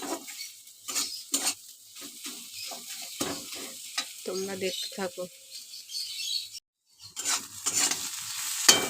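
Leafy greens (saag) stir-fried in a pan crackle and sizzle in bursts, with repeated scraping strokes of a spatula against the pan. Someone speaks intermittently over the cooking.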